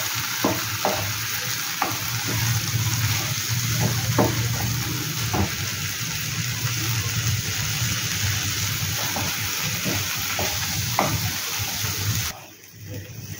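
Cashew nuts and spices sautéing in a pan for shahi paneer, a steady close sizzle and fry with intermittent scraping stir strokes throughout, then a brief drop near the end.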